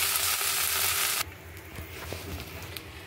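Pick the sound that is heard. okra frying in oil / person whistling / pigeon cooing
okra frying in oil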